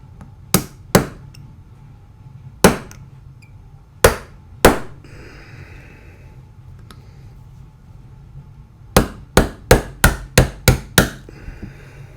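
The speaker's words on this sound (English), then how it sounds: "So let me grab my hammer." Sharp, ringing hammer blows on metal, tapping out a pin on a Walther PPK pistol: a few spaced taps, a pause, then a quick run of about seven strikes close by.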